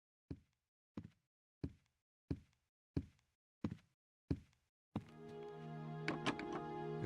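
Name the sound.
trying a locked door in video game Gabriel Knight 3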